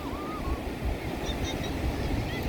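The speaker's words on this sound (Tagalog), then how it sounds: "Pero ngayon medyo mataas na yung alon ngayon." Steady rushing surf of high ocean waves at Agno, a continuous broadband wash with wind noise, no clear individual breaks, fairly close and loud throughout.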